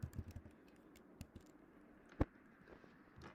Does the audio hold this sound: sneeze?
no